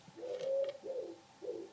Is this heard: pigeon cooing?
yes